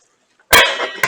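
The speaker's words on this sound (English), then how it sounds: "So I'm going to put a little splash of water." A splash of water hits a hot simmering pan of turkey and vegetables, a sudden loud sizzle bursting up and hissing on for about half a second before a second short sizzle flares.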